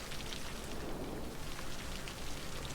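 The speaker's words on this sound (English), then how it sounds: "It's raining, it looks like." Steady rain falls across a city in the City Skylines video game, a dense, even hiss of drops with no gaps, moderately quiet and alone without voices.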